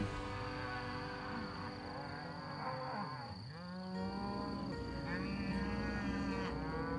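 Cattle on the Deseret Ranch moo in several long, drawn-out calls, some near and some farther off, over a steady outdoor background with a thin high insect-like tone.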